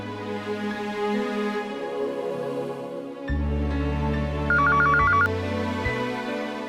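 A phone ringtone chirps in a short electronic trill over a steady backdrop of sustained tones.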